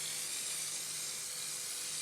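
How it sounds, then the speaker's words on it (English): A spray bottle mists glue over static grass on a model scenery layout, a continuous close hiss lasting about two seconds. "then we'll give it another little spray"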